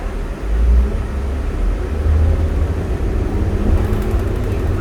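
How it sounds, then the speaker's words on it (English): The motor of a 2005 New Flyer D40LF transit bus drones loudly and continuously from inside the cabin, a deep rumbling hum with slight surges and no talk. "You can hear that motor from a mile away."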